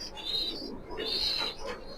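Domestic pigeons kept in a loft coo close by in soft, rolling calls, with faint chirps mixed in over a quiet background.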